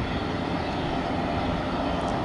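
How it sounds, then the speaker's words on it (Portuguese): A large Brazilian Army helicopter passes low over Sorocaba airport, its steady broadband rotor and engine roar holding loud and continuous throughout with no pauses or voices. "Olha só, desfilando aí o helicóptero."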